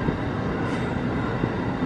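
A long train rumbling past at a railway crossing, a steady, fairly loud broadband roar and rattle of railroad cars continuing without a break, heard alone.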